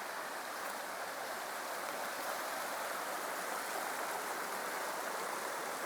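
A creek flowing beside a campsite in the Colorado mountains gives a steady, close broadband rush of running water, constant and unbroken throughout with no voices over it.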